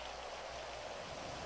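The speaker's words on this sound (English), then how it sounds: "No, it's still raining." Rain keeps falling outdoors after a week of wet weather, a soft, even hiss of drops that stays faint and steady through a brief moment with nobody speaking.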